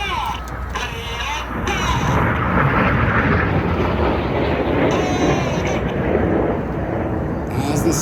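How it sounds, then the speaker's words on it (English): Seven RAF Red Arrows jets pull to the vertical at an airshow, a loud broad roar of jet engines swelling and holding, with an announcer talking over it. "7 aircraft pulling to the vertical, about to make a beautiful palm tree"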